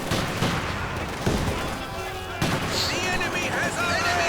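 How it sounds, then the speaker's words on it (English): Grenades and gunfire crackle through a Company of Heroes 2 battle between Soviet and German infantry, with dense bursts, thumps and rattling shots mixed under a commentator's voice. "Grenades getting lobbed."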